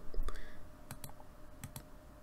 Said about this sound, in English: Click on the editing tool.